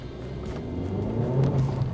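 A Honda Civic Type R accelerates hard in first gear, its engine a deep, close rumble that swells steadily over a couple of seconds with no talking.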